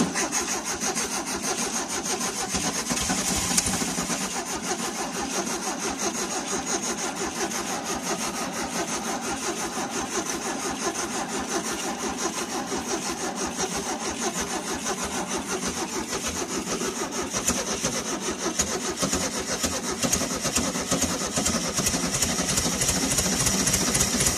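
Air-cooled engine of a 1973 VW Karmann Ghia, revived after 28 years, runs steadily on a small splash of fuel, a loud continuous rattling drone lasting throughout with no talk.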